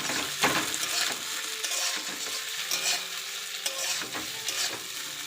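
Pasta tossed into a pan of fried ginger, garlic and onion, giving a steady close sizzle with stirring scrapes and brief clatters throughout.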